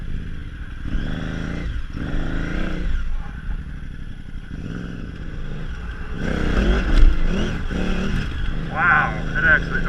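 A KTM 950 Adventure motorcycle accelerates hard across muddy ground, its engine rising in surges over steady rumbling with clattering from the chassis, while a rider talks over much of the run.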